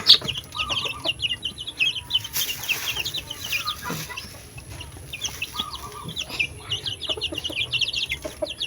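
Two mother hens cluck repeatedly at close range in a large coop, soft irregular clucks overlapping with faint background farmyard noise and occasional brief rustling.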